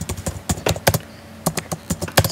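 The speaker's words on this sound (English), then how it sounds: "I'm going to type hello" Quick, close clacking of keys being typed on a computer keyboard, irregular strokes in short runs with brief pauses, no talk.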